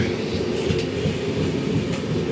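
The Goa Sampark Kranti Express, train 12450 on the Delhi to Goa run, races at speed, heard from inside the coach as a loud, continuous rumble and rattle of wheels on track, with no talk.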